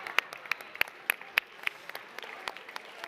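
Scattered, loose hand claps from a small audience at a talk on preserving happiness in hard times, sparse and fairly faint, lasting about three seconds.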